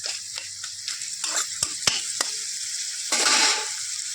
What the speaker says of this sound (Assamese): এনেকৈ কিছু সময় ৰাখি দিওঁ উতলি থাকিবলৈ